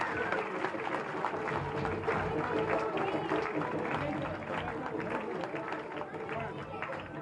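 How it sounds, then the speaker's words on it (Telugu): A crowd at a school program in Kusumanchi claps hard with raised hands, a steady roar of applause mixed with crowd noise and voices talking over it. "చేతులు పైకి ఎత్తి గట్టి క్లాప్స్ కొట్టండి ఒకసారి."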